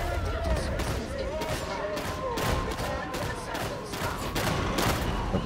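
Grenade blast and bursts of gunfire in Warhammer 40,000: Darktide, with repeated sharp impacts spread across a dense, continuous battle din while a voice talks over it.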